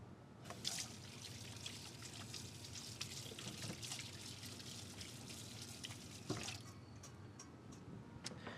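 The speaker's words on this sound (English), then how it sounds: "I'm going to give my hands a quick wash so I get these eggs off" Tap water runs steadily into a kitchen sink while hands are washed clean of raw egg, a continuous close splashing trickle with small shifts in the flow.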